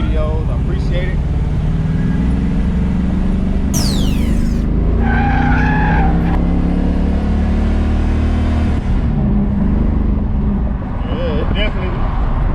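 A car accelerates as its transmission shifts, a loud steady engine drone in the cabin with rising tones and a shift change partway through, and a voice speaks briefly over it.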